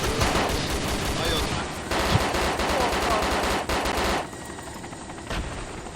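Sustained automatic gunfire from the survival video game DayZ, dense rapid bursts that stay loud for about four seconds, then drop to a quieter stretch with faint shots and background noise. Voices can be heard faintly beneath.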